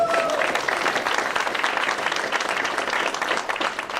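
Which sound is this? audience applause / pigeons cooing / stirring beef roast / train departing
audience applause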